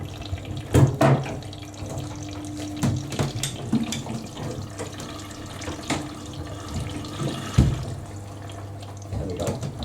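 Water runs into a washing machine through a kinked hose as a steady, close hiss and trickle, broken by a few clunks and bumps.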